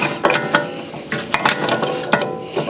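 Pipe wrench striking a part on an R107 AMG car that has sat unused for 30 years, a series of sharp metallic knocks and clinks at irregular intervals, close and fairly loud.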